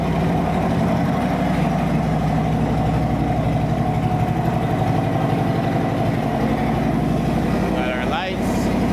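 A Harley-Davidson motorcycle engine running at idle, a loud steady low throbbing rumble that holds throughout, with a brief disturbance near the end.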